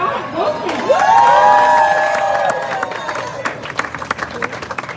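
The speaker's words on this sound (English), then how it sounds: "Also a special round of applause for musician and husband of Mandy, Erik." A crowd applauds and cheers loudly, with whoops rising over the clapping before it thins into scattered claps toward the end.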